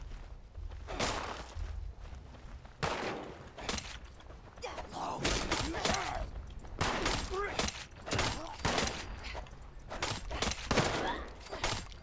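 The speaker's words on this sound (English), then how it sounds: "Somebody's shooting." Gunfire crackles in Fallout 76, with repeated loud bursts of shots and thuds in close succession and a voice talking over the shooting.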